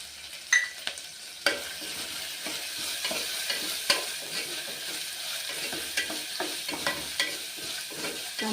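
Dried kasuri methi sizzles in hot oil in a curry pan while making a bottle gourd and chana dal curry, with steady frying crackle and scattered scraping stirs of a spoon against the pan.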